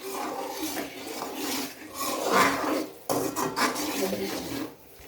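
A utensil scrapes and stirs sugar syrup in a pan over low heat while mawa peda are being made. The rasping, rubbing strokes are soft and close, with light metallic clinks from the pan.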